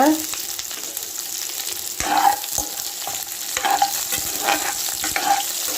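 Sliced large onions sizzle and fry steadily in a hot pan, with occasional scraping and stirring sounds over the constant crackle.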